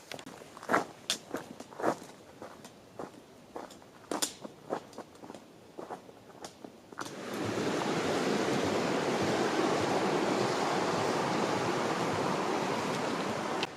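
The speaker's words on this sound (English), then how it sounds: "Making my way down this road. It's become a creek." Footsteps crunch along a hiking road below Humboldt Peak in Colorado, then a loud, steady rush of runoff takes over as water flows down the road, which has turned into a creek.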